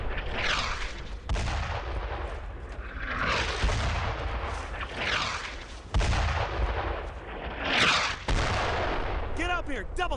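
Mortar rounds slam down in Brothers in Arms: Road to Hill 30, with repeated heavy booms and rumbling blasts amid crackling gunfire, and voices shout over the loud, chaotic battle.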